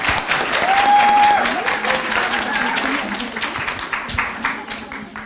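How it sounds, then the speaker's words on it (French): Audience applause fills a hall at a French presentation event, a dense continuous patter of many hands that peaks early and slowly thins, with faint voices and a brief tone beneath. "Attendez un applaudissement, s'il vous plaît."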